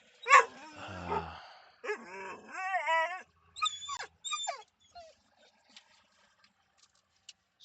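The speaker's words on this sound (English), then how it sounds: "now the dogs are barking" Several dogs barking and yipping close by, a quick run of barks followed by whining, whimpering yelps that taper off into faint scattered yips.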